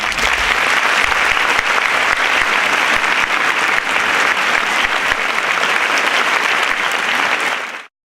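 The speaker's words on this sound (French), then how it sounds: "Je vous demande d'applaudir très chaleureusement Karine Viard." A film festival audience gives loud, warm, sustained applause for a guest actress, a dense wall of clapping from many hands that holds steady for several seconds and then cuts off abruptly.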